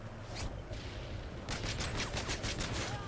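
Gunfire in Call of Duty: Modern Warfare 3, a rapid burst of shots in quick succession over a noisy battle backdrop, loud and close.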